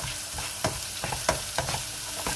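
Vegetables sautéing in a pan for cauliflower fried rice, a steady sizzle broken by repeated close spatula scrapes and clacks against the pan.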